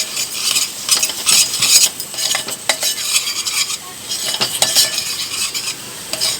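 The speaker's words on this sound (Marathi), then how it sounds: "हळद, घरगुती मसाला, 2 मिनिटं आपण तेलात परतून घेऊ।" Turmeric and homemade spice mix frying in oil for a green tomato curry, a close sizzle broken by repeated scraping strokes of a utensil against the pan in uneven bursts, with no voices.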